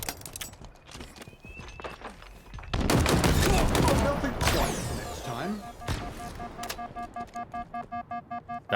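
Gunfire in a video game, a dense loud volley of shots mixed with hoofbeats and horse sounds in a chaotic battle scene, then a run of regular pulsing clicks; a voice talks faintly beneath.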